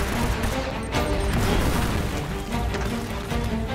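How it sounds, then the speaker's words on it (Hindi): Grenade blast in Uncharted: Drake's Fortune, a dense, rumbling burst of booming noise that fills the scene continuously amid gunfire-like crackle, loud and close with no talk over it. "इसको तो मैं ग्रेनेड से मारूंगा"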